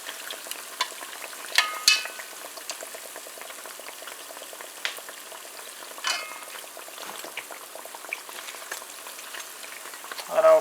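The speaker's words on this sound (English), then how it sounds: "So to fry this guys, you want to keep your oil and your heat on medium." Guyanese bara dough frying in oil over medium heat, a steady light sizzle and bubbling with occasional clinks and stirring scrapes.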